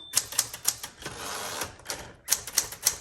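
A 1973 Galaxie Twelve manual typewriter types in crisp, evenly spaced key strikes, a run of sharp clacks, a brief pause with softer mechanical noise, then another quick run of loud strikes close by.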